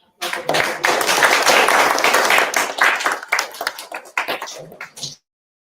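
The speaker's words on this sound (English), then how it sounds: "Let's give a big round of applause." Audience applause at a stage event: dense, loud clapping that starts abruptly and thins into scattered claps near the end, with voices mixed in.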